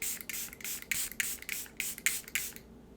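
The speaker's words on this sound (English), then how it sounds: "I'm going to take my One Size Powder Melt Glass Setting Spray" Short bursts of One Size Powder Melt Glass Setting Spray misted onto a face during makeup, about seven quick hissing pumps in a regular rhythm, close and soft, then quiet.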